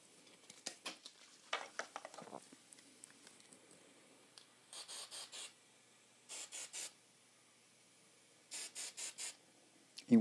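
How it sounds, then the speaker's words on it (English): Hairspray misted onto styled hair, several short sharp bursts of spray in quick groups of three or four, fairly faint, with some soft rustling handling early on. "Now we do our last step with the hairspray."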